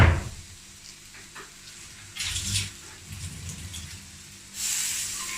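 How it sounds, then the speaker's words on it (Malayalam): Curry leaves hitting hot oil in a pan with tomatoes and green chillies, giving bursts of bright sizzling and spattering that flare up, settle, then flare again near the end, close and fairly loud. "ഈ സമയത്ത് കുറച്ചും കൂടെ വേപ്പില ചേർത്ത് കൊടുക്കുക."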